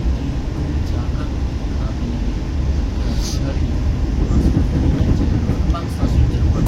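The Tegal Bahari passenger train stands halted at platform 4 of Cirebon Prujakan station, giving off a steady, loud low rumble with a constant broadband hiss and indistinct voices in the background.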